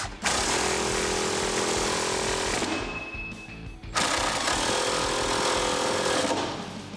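A loud power tool with a 19mm socket tightens new suspension hardware on the rear of a Jeep Wrangler JLU Rubicon lift kit, hammering steadily in two long bursts separated by a short pause.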